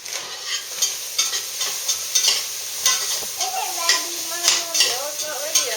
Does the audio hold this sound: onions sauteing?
yes